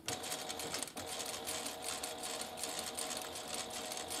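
Sewing machine stitching fabric for a wristlet, a fast steady mechanical whir with rapid needle ticking, running continuously and close at a quiet level.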